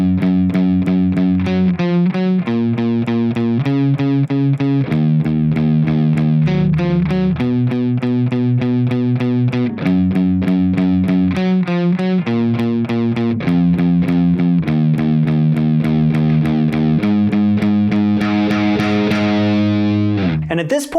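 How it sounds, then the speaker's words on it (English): A distorted electric guitar plays the verse riff of a song, a repeating pattern of alternating notes and chords with heavy, saturated tone and chorus-like shimmer, loud and continuous for about twenty seconds. "So altogether, that distorted verse guitar sounds like this."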